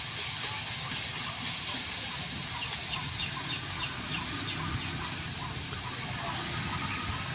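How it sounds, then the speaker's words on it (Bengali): Garlic fries in hot oil for a village-style leafy greens dish, producing a dense, continuous hiss and sizzle. It stays loud and steady throughout, with no talking. "রসুনটা পুড়ছে, ওখানে শাকটা বেশ সুন্দর করে নাড়া দিয়ে দিব।"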